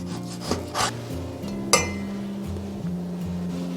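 A knife slicing through cured Chinese pork belly on a wooden cutting board, a few distinct chopping strikes with soft rubbing scrapes between them over a low steady background hum.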